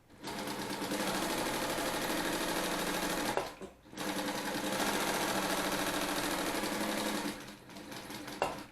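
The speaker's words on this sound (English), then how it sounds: "So let's go ahead and sew a little bit with this machine." An industrial heavy-duty flat-bed walking-foot zigzag sewing machine runs in steady, rapid stitching bursts, with two brief pauses between long even runs, close and clear.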